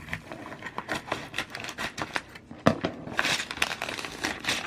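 A vacuum-sealed plastic pack of LEGO parts is cut open and handled, giving close, irregular crinkling and crackling of plastic, with louder rustles near the end.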